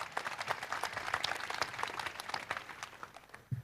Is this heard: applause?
yes